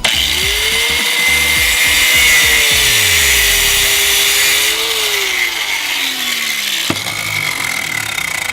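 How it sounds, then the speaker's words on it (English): An angle grinder fitted with a cut-off wheel cuts through metal while restoring a 2lb cross peen hammer, a loud close whine that bends in pitch as the wheel bites, then winds down with a sharp knock near the end. "then cut it off with this angle grinder cut wheel"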